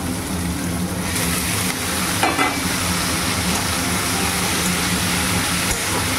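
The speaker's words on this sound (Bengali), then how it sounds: "একটু নেড়ে চেড়ে নুন দিয়ে ঢাকা দিয়ে দেবো" Snake gourd and potato fry in a pan with a constant loud sizzle, with faint stirring noises mixed in.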